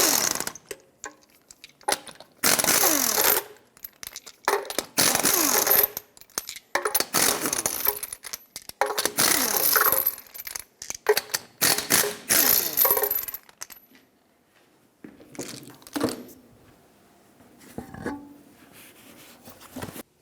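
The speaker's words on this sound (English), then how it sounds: "Use a 21mm socket, remove all 6 of your lug nuts" A ratchet with a 21mm socket loosens the lug nuts on a Toyota 4Runner wheel, giving repeated bursts of fast metallic clicking with gaps between nuts, close and loud and without talking.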